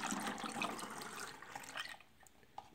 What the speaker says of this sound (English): pour the water back in